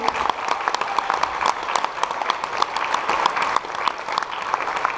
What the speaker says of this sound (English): Can we please get a round of applause for these guys?